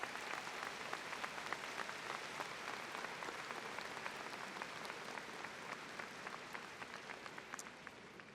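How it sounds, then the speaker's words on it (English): A large crowd at a high school commencement ceremony gives the graduation team sustained, dense applause, with many hands clapping steadily at an even level from start to finish. "let's give them a huge round of applause"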